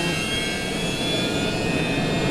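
Boeing 727 jet engines spooling up for takeoff in a flight simulator cockpit, a loud continuous roar with steady high whine tones holding throughout, no talk.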